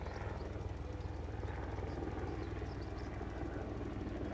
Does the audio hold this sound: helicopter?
yes